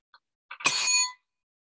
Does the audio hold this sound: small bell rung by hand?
yes